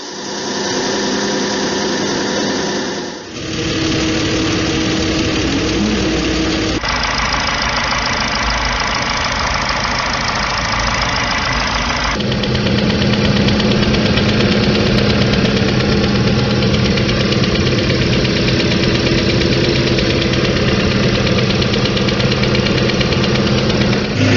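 A Hyundai Theta II and Smartstream 2.5T engine runs loudly and steadily, with a rapid rhythmic knocking tapping through the idle; the tone shifts a few times.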